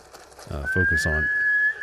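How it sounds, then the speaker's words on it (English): Short horse whinny from the game Ghost of Tsushima: Director's Cut, a few rough pulsing calls followed by a long, steady high whistle tone, fairly close and clear. "let's get on our horse"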